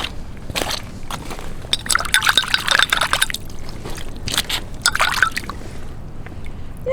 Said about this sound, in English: I'm just going to rinse this off a minute.